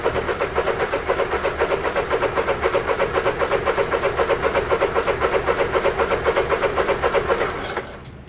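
An electric start attempt on a Honda EU3000is portable inverter generator after a valve adjustment: a steady, rapid rhythmic cranking whir that runs for about seven seconds without catching, then drops away, close and fairly loud.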